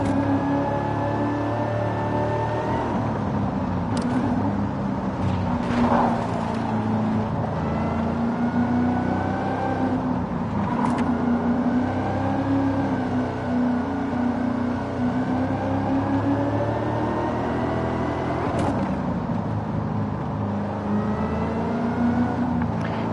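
Supercharged V8 car in Forza Horizon 5 runs at a steady loud drone with a high supercharger whine above it, and the pitch rises and falls slightly with a few brief clicks.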